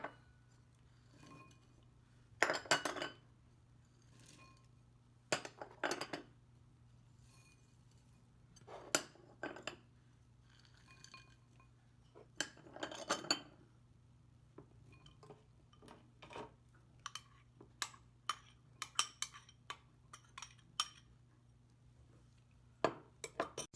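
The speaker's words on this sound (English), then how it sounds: "So I'll put all the raisins here inside." Dry raisins for a Christmas cake are tipped into a bowl to soak, making intermittent bursts of light pattering and clinking against the bowl, close and fairly quiet, with short gaps between handfuls over a low steady hum.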